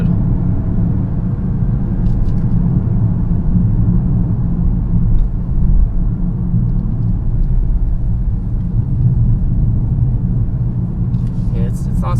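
A 2020 BMW 740i's engine drones low and steady as the car accelerates in sport mode, a constant cabin rumble with faint voices now and then.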